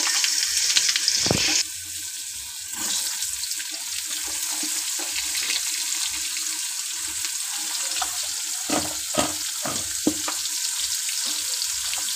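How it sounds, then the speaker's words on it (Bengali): Pointed gourd (potol) frying in hot oil in a pan, a loud, steady hiss and crackle close by, with occasional thumps and stirring knocks breaking through the sizzle. "আমি পটলগুলো একটু ভালোভাবে ভেজে নেবো"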